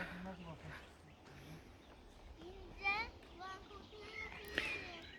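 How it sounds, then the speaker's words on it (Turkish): Scattered bird chirps and short whistled calls ring out in a forest, with children's voices faintly nearby. "Mis gibi kuşların sesi."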